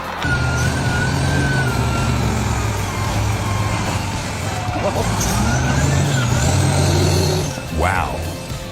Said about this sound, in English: look at how those massive logs are loaded onto the heavy-duty truck from deep within the forest